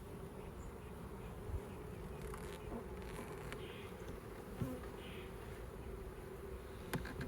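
Honey bees at a swarm trap hum in a steady, dense drone that never lets up, with a few insects flying past close by.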